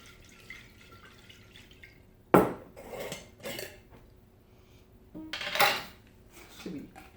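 A homemade Lysol-type disinfectant spray being mixed in a container, heard as a few sharp clinks and knocks of utensil against the vessel with brief liquid sloshing between quieter gaps, close and fairly loud.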